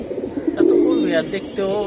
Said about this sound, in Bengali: এটা সিলভার আফসান কবুতর বিগ সাইজ